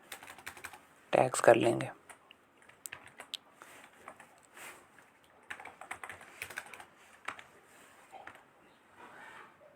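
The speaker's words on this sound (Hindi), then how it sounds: "यहाँ पे हम सारा टाइप कर लेंगे" Computer keyboard typing during an Odoo development tutorial, soft scattered key clicks in short irregular bursts, close and quiet, with someone talking briefly near the start.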